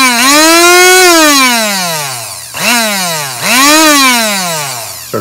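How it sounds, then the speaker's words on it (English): Coffee mill grinding matted fly-tying dubbing, a loud, whining motor that rises and falls in pitch over three bursts, close up, with no talking. "coffee mill, and we're going to loosen it up."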